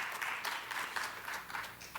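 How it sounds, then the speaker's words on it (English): Audience applause at an education summit, a steady wash of many hands clapping with no clear break across two seconds, fairly faint and distant. "you can clap for that"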